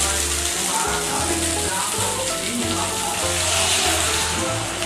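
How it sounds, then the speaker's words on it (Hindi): Water poured into a pan of frying tomato and spice masala for an aloo beans sabzi, a broad steady hiss and sizzle running throughout, with a person talking over it. "अब हम इसमें डालेंगे पानी।"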